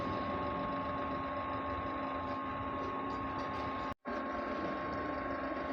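A printer runs a head cleaning cycle and gives off a steady mechanical whir and grind for several seconds. It is close and even, with a brief dropout near the end.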